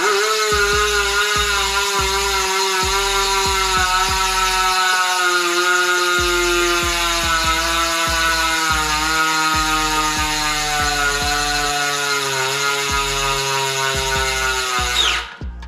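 An ENVE 7.8 SES carbon rim-brake bicycle wheel's hub freewheels with a loud, steady ratcheting buzz of rapid pawl clicks that slows slightly over about fifteen seconds before cutting off abruptly.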